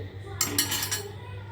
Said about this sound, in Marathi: ही भाजी मी डिशमध्ये काढून घेते